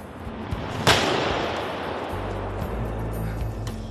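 A single sharp firework bang cracks out nearby, loud and abrupt, followed by a rumbling low echo and background noise.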